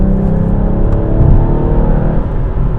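A car engine pulling hard in third gear while overtaking on a Scottish road, a loud steady rising drone and whir heard from inside the car, with no voices.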